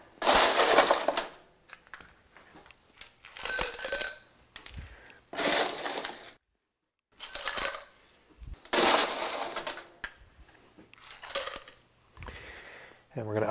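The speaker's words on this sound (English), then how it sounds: "Then we're going to ice the glass up." Ice cubes clatter into a cocktail glass in a series of bright, crunchy bursts separated by short pauses, loud and close, while a Caesar cocktail is being prepared.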